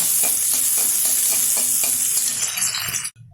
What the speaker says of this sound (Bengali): এখন এই তেলেই দিয়ে দেব কুচিয়ে রাখা একটা মাঝারি সাইজের পেঁয়াজ। এটা কিন্তু লাল লাল করে ভেজে তুলে নেবো।